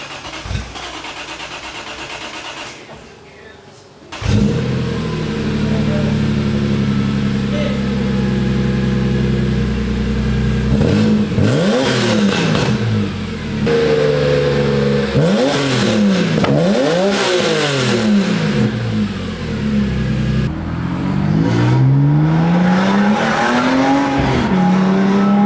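A BMW E46 M3 with Super Sprint V1 headers, non-resonated Section 1, resonated Section 2 and Dyno muffler fires up, idles, then revs repeatedly in sharp rising-and-falling sweeps, loud and close, ending in a longer climbing rev.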